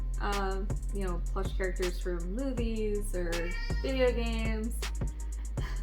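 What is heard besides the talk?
pet cat meowing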